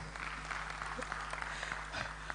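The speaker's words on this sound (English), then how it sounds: "If I clap for him also." A lecture audience claps during a live business lecture, a soft, steady patter of many hands heard from a distance with a low background hum.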